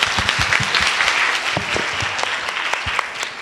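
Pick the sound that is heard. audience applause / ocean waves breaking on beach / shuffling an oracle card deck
audience applause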